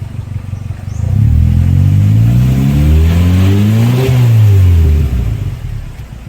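A 1991 Toyota Starlet with a 1300 cc engine revs hard from idle, climbing and falling twice in loud, close sweeps before dropping back down.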